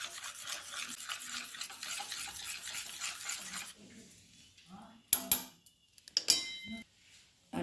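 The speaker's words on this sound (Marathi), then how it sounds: "आता ह्याला पण छान मिक्स करून घेऊया" Beaten eggs with turmeric, red chili powder, salt and coriander are stirred in a bowl. A steady scraping swirl runs for a few seconds, followed by a few sharp clinks of the utensil against the bowl, with a faint voice in the background.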